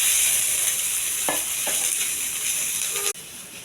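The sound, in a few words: ivy gourd frying in oil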